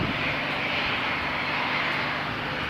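ATR turboprop airliner at Christchurch airport in fog, a steady, fairly distant broadband engine roar holding constant throughout with no talking.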